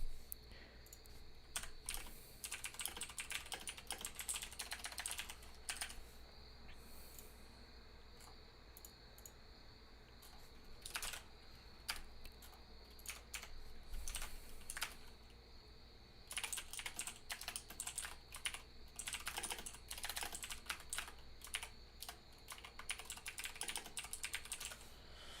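Steady typing on a computer keyboard runs throughout, with dense bursts of quick key clicks and brief pauses, close and fairly quiet over a low hum.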